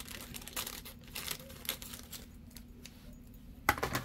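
Close-up crinkling and snipping of plastic doll packaging with scissors, a series of short crisp cuts and rustles, ending with a sharp click.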